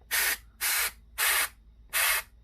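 Compressed air blasted into a PS4 cooling fan held still, four short loud hissing bursts evenly spaced with brief pauses between them.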